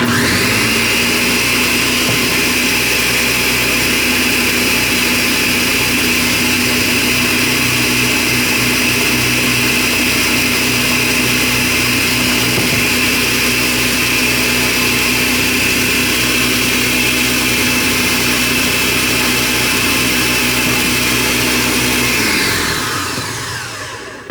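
A blender runs steadily and loudly, mixing egg and oil into a condiment, with a constant whirring drone that keeps going for about twenty seconds and then winds down at the end.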